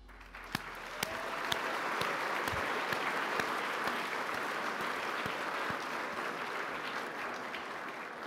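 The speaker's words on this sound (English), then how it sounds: "let's just give one more round of applause to that team" An audience bursts into sustained applause for a winning team at a technology awards presentation, a few early claps giving way to full, steady clapping to the end.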